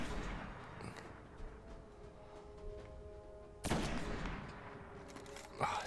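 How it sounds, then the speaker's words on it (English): Gunshots in the video game Destiny: scattered shots and bursts over a steady ambient hum, with one heavier blast in the middle and another sharp shot near the end, moderately quiet and without talking. "Shot him in the back."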